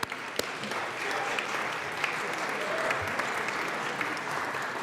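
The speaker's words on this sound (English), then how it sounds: "So let's give them a round of applause" Applause fills a legislative chamber of the Colorado House, a dense, steady round of clapping from many hands held at an even level for several seconds with scattered sharper claps.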